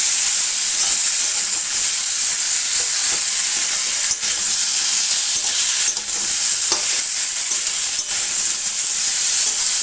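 Spices and vegetable stalks with potatoes stirred and frying in a pan for a duck-egg curry, a steady loud sizzle with bright hiss and a few scraping stir strokes, no talk.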